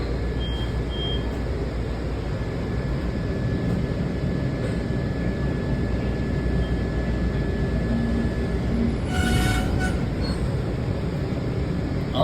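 A metro train runs along the tracks as a steady, loud low rumble that fills the whole stretch, with a brief burst of high clatter or squeal near the end; no one speaks over it.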